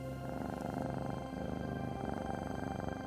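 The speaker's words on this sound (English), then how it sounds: "They began to purr and chant." A low, rhythmic purring pulses steadily and close, a continuous rumbling vibration that rises and falls with each breath.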